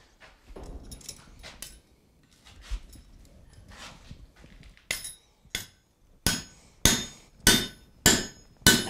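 A hammer drives a hot 1/2 inch drift pin through forged steel, starting with soft taps and shuffling, then ringing out in a run of loud, evenly spaced metallic strikes close by.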